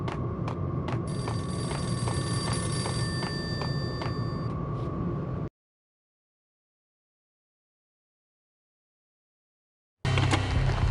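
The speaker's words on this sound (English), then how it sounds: "The payphone started to ring." A payphone rings in the Max Payne video game on PS4, with loud electronic bell trills for about five seconds, then silence, then the ringing starts again.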